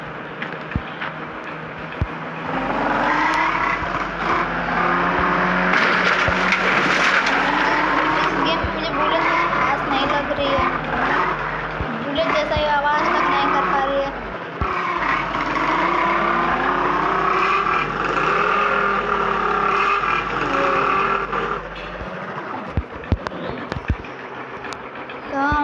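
Game car engine driving steadily through a Hindi-language gameplay session, a continuous mid-pitched drone with shifting revs running under near-constant commentary from a man.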